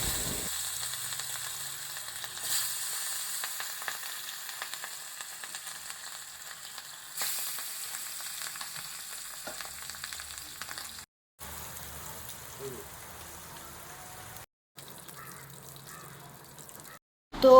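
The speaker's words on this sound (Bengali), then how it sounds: "এর মধ্যে আমি কড়াইতে তেল দিয়ে ইলিশ মাছ ভাজাটাকে তুলে নিচ্ছি" Hilsa fish frying in oil in a wok, a continuous close crackling sizzle that swells and settles, briefly cut by pauses near the end, with faint background noise.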